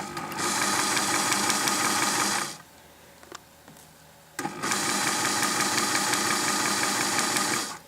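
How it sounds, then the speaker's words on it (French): A sewing machine stitches a seam along a chalk line on a kit turban, a loud steady whirring run, a short pause with faint handling clicks, then a second continuous run. "Et ensuite, on pique sur ce trait de craie."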